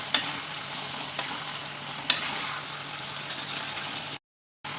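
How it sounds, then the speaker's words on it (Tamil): Ginger-garlic paste frying with onions in a pan, giving a quiet, even sizzle with a few sharp stirring clicks and a short dropout near the end. "அதெல்லாம் நல்லா வந்து ஃப்ரை பண்ணணும்."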